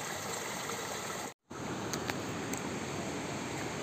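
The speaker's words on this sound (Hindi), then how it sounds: "कल कल करती हुई झरने की आवाज़।" Devkund waterfall and a babbling mountain stream along a trekking trail roar as a steady, close wash of rushing water, broken by one brief dropout to silence partway through.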